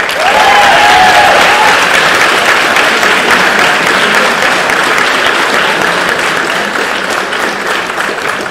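Loud, sustained applause from an awards night audience fills the room, steady clapping from a large crowd continuing without pause throughout.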